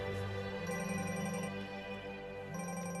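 An electronic ringtone chirps in a repeating pattern over a steady background score in a Hindi-language action film scene, the ringing fairly faint beneath the music.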